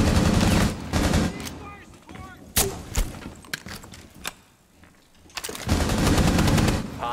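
Video game gunfire in a tactical military shooter, bursts of rapid automatic fire and single loud shots with thuds, close and loud, easing off briefly before heavy firing resumes, with occasional voices.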